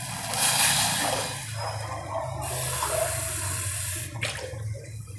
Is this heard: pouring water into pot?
yes